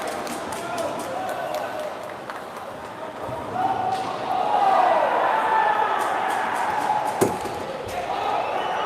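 Cheering and crowd noise rise from a hockey team bench at a junior varsity game, Waterloo Warriors against Lincoln Jr Stars, after a player takes out a linesman; a steady arena din swells in the middle, with a sharp thud near the end.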